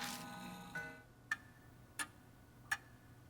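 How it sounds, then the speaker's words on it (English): An antique grandfather clock from the video game Death Mark, heard as a fading chime followed by three crisp, evenly spaced ticks against near silence. "All of a sudden, it stops chiming. Silence descends, broken only by ticking."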